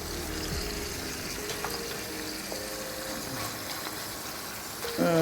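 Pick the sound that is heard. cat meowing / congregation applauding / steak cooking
steak cooking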